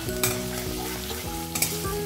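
Crushed garlic fries with onions in a pan, a loud, close sizzle broken by repeated scraping stirs of a utensil and a few sharp clinks, with no voices.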